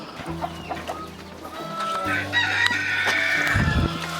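Chickens cluck steadily while a rooster crows over them at a poultry flock, a close, busy farmyard chorus with several birds calling at once and no talk.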